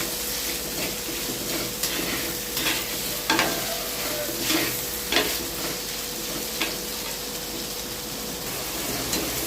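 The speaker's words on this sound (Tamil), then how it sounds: "வெங்காயம் வதங்கிறதுக்கு தேவையான அளவு நம்ம உப்பு போட்டுக்கலாம். உப்பு போட்டு நல்லா கலரிக்கலாம்." Chopped onions sizzle in hot oil with salt as a spoon stirs them for a spicy crab gravy, a continuous loud frying hiss broken by occasional scraping clatters of the utensil.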